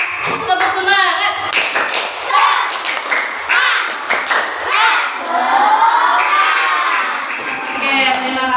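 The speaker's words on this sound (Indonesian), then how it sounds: "Tepuk semangat." Classroom of elementary school pupils clapping together in a spirit clap, with bursts of claps, children's shouts and cheering filling the room, and voices throughout.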